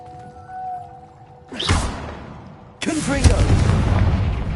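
Two fiery Confringo blasting-spell explosions in Hogwarts Legacy, a wizarding-world action game, each a sudden loud whooshing burst followed by a roaring, rumbling tail. A faint tonal hum runs before the first blast.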